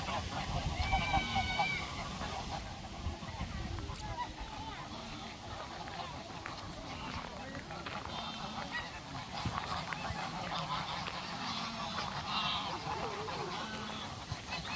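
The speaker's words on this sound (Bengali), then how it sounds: "হ্যাঁ অনেকগুলি রাজহাঁস" Geese honk in a large flock in Norway, calls overlapping steadily throughout under continuous talking nearby.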